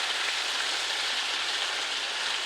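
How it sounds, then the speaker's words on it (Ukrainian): Chicken pieces frying in a pan, giving off a lot of water, with a steady, dense hiss and crackle of sizzling that holds evenly throughout without pause or any talk over it. "Викладаємо на пательню. Зараз курка дасть е, дуже багато води"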